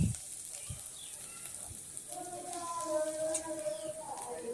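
Onion paste frying and being stirred in a pan for a Bengali pui shak and potato chorchori, a steady soft sizzle running throughout at moderate level, with faint tonal background sounds over the latter half.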